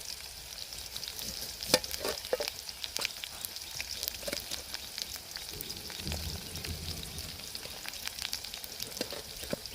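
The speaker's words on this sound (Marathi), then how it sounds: "आंबा कापून घेतलेला आहे पिंकीने आणि आता तो फोडणीलाच टाकते" Hot oil tempering sizzles and crackles steadily as mango pieces fry, with scattered sharp pops and spatters, close and continuous.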